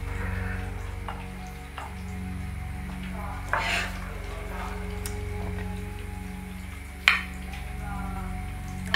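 Swordfish is tossed into pasta in a pan for a Sicilian recipe, giving soft stirring scrapes and faint sizzling with a few sharp clinks of utensil on metal, under a low steady hum.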